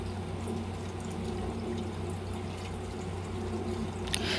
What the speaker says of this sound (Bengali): আমি একদম হালকা আলতো হাতে আমি মাছগুলোকে এক এক করে ধুয়ে নিচ্ছি